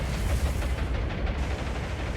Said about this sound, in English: Actually, not too much flak, just a whole lot of bullets.